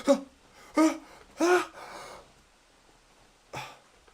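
A man imitates a sneeze that never arrives, making a few sharp breathy gasps and throat noises in quick succession and then a final short burst after a pause, close and clear.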